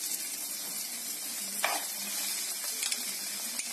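Ketchup is stirred into frying onions and vegetables with a steady, close sizzle. Soft scraping strokes of the spoon come through, with one sharper clack in the middle and a few small taps near the end.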